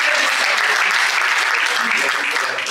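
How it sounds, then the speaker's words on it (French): An audience at a business coaching meeting claps loudly and continuously, a thick, even wash of applause that fills the room without a break. "Applaudissez pour lui."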